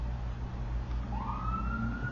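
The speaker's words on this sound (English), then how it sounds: "I don't know if you're hearing that siren" An emergency vehicle siren passes outside, a rising wail that swells in from a distance under steady low traffic rumble, clear but not close.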